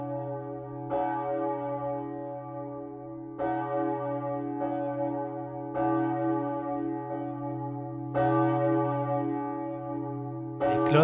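Church bells of the collegiate church of Romont ring out with strong repeated strikes about every one to two seconds, each leaving a long humming resonance that overlaps the next, loud and alone with no talk.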